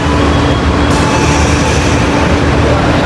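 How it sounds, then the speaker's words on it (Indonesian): Serayu economy-class passenger train heard from on board, a loud, continuous rumble of wheels and carriage noise with no pauses. "ini dia kereta Serayu menggunakan armada kelas ekonomi"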